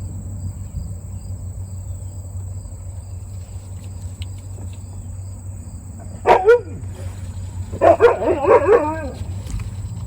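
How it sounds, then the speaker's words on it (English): A dog barks a couple of times, then gives a short run of yips and barks, over a steady hum and chirping insects. "what are you barking at?"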